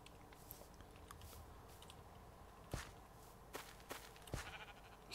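Minecraft sheep give faint game bleats amid soft in-game footsteps and small clicking and munching sounds, with a few sharper thuds scattered through the quiet background.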